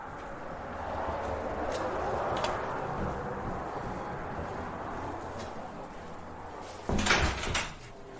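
Museum doors being pushed open at the Colorado River Museum: a brief rattling clunk of the doors near the end, heard over steady room and traffic rumble.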